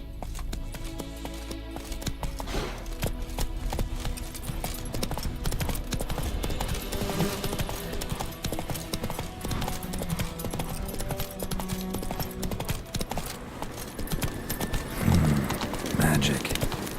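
Horse Roach's hooves gallop steadily in The Witcher 3, a continuous clip-clop rhythm under game music and ambience, with faint talk and a brief whinny-like sound near the end.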